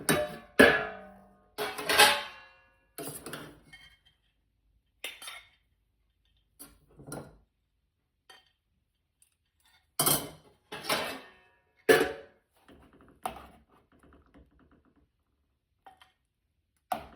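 Dishes and cutlery clink while French lentil dal and rice are plated, with scattered sharp metallic taps and clatters coming in irregular bursts between quiet pauses.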